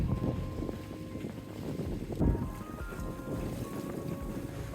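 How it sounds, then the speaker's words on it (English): Wind gusts rushing across a sailboat's microphone on open water near the Bahamas, a steady broadband roar with a low engine hum beneath and a brief louder buffet midway. "Winds are picking up just a bit"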